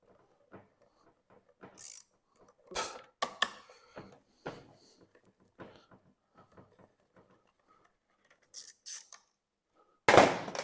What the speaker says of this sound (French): Donc ensuite, clé de 10.